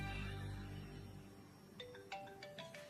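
A mobile phone ringtone for an incoming call chimes in a short repeating pattern of bright electronic tones, starting after a fading rumble and sounding fairly quiet and alone.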